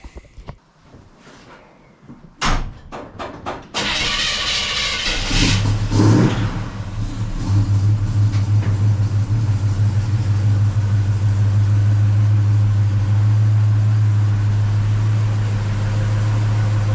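A 1967 Chevy truck with a rebuilt big block engine cranks with a few stuttering turns, catches and roars to life with a burst of revs, then settles into a loud, steady, rumbling idle close by.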